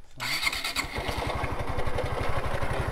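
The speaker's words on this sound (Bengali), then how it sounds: "আমি আপনাদেরকে এখন ইঞ্জিন সাউন্ডটা শোনাইতেছি। তো এটা হচ্ছে এখন স্টার্ট দাও তো" A Suzuki Gixxer Fi ABS motorcycle engine cranks and catches, then settles into a loud, rapid, steady putter close by.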